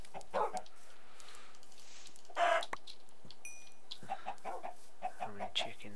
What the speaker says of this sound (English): How many chickens are around?